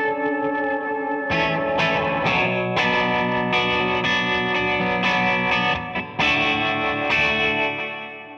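Sustained electric guitar chords played through a Strymon Flint reverb pedal, struck in a slow series with each chord swelling into a lush, washy tail, loud and continuous, fading at the end.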